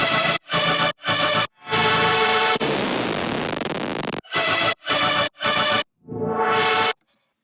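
A loud electronic dance drop: chopped bursts of heavy bass and synths with gaps, a noisy riser sweep, then more stuttering hits and a rising sweep at the end.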